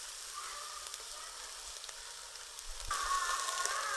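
Chicken tikka sizzles steadily in hot oil in a pan, a continuous close frying hiss that grows louder and sharper near the end, with no talking.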